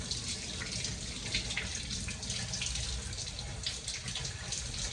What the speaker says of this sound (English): we're going to turn on the water and scrub our hands, getting under our nails and our wrists